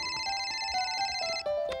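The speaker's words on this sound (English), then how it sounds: "Oh, my new cell phone." A new cell phone ringtone plays a bright, repeating electronic melody of stepped tones, loud and close, running steadily for under two seconds with no talking.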